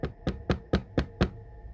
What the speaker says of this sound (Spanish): toqué la puerta del cuarto